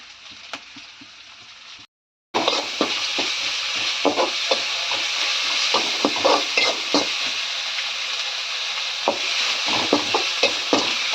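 Ginger and green chilies sautéing in a pan sizzle steadily and close by, with repeated scraping strokes of a spoon after a brief silent gap near the start; no talking.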